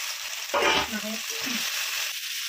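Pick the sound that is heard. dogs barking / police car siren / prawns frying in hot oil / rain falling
prawns frying in hot oil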